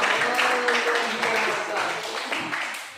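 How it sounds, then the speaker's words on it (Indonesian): Students in a math classroom clap for a group's answer, a short burst of many hands close by with uneven sharp claps, fading toward the end while voices chatter over it. "tepuk tangan dulu untuk kelompok 5"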